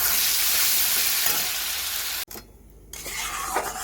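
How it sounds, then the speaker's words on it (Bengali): A ground paste of poppy seed, melon seed, tomato, ginger and garlic fries and is stirred with onion in a pan, giving a loud steady sizzle that drops out briefly near the end before resuming more quietly. "আদা রসুন পোস্ত চালমগজ টমেটো সব বাটা ভালো করে মশলাটা কষিয়ে নেব"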